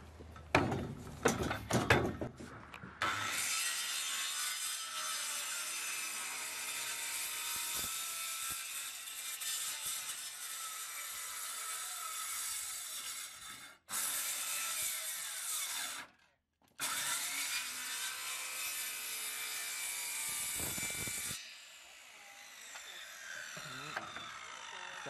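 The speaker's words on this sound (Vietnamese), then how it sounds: "Và cưa cho nó bằng các bạn." A saw cuts through the wood of a handmade work table to level it, a loud continuous rasping that runs for most of the stretch with a few short pauses.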